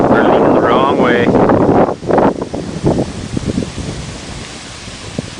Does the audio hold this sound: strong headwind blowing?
yes